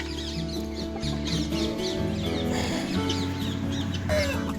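Chickens cluck and chatter nearby, with a rooster's crow rising among the steady flock noise in a busy coop of laying hens on a poultry farm.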